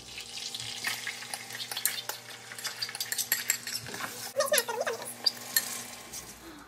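Chopped ginger, garlic and onion sautéing in butter and oil in a home kitchen pan, a steady sizzle with scattered utensil scrapes and clinks, moderately close, no talking.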